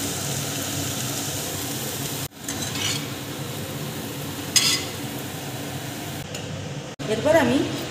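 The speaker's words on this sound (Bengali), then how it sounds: "বাঁধাকপিটা আমার ভাজা হয়ে গেছে, এবারে আমি তুলে নিচ্ছি।" Fried cabbage sizzles in a pan as it is stirred and lifted out, with a steady frying hiss, occasional scraping clinks of a utensil and a short burst of louder activity near the end.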